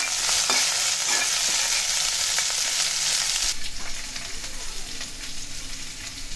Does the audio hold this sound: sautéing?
yes